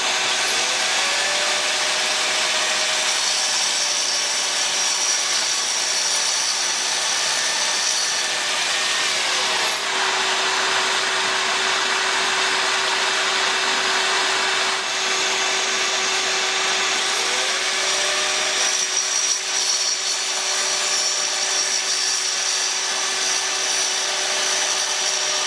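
A VersaCut power tool cuts the tapered end off a tile backer board, giving a steady, close, continuous whining buzz with a constant pitch that runs unbroken throughout.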